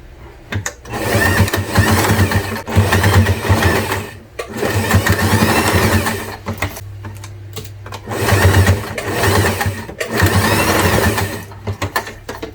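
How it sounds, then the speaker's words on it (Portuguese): A sewing machine stitches fabric seams on a small zippered toiletry pouch, running in several fast mechanical bursts of a few seconds each, separated by short pauses, loud and close. "eu vou vir com uma costurinha aqui e vou fazer a mesma coisa aqui do outro lado"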